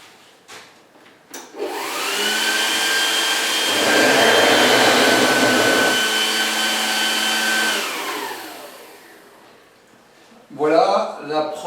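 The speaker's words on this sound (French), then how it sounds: "Je vais maintenant travailler la pâte en position pétrin." A stand mixer kneading brioche dough starts up and runs with a loud steady motor whine for about six seconds, then winds down, with a voice speaking briefly before and after.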